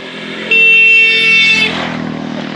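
Motorcycles of local bikers pass close on a mountain road in Ladakh, a loud, steady engine drone with a horn-like tone that fades as they move off.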